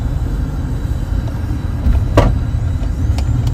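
A car drives along a road with a steady low rumble of engine and tires from inside the cabin, joined by a couple of brief passing swishes.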